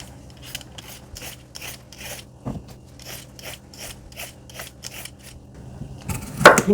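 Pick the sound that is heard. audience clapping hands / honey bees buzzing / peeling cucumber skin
peeling cucumber skin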